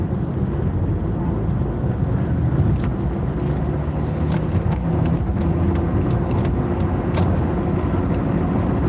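Car cruising along a highway through the mountains, a steady broadband road and engine rumble with wind noise filling the whole stretch, no voices.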